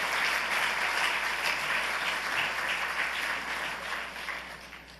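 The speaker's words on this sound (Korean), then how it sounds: "박수로 환영해 주시기 바랍니다" A church congregation applauds to welcome a guest, a former vocal group singer and actress, with sustained, even clapping across the room that gradually fades toward the end.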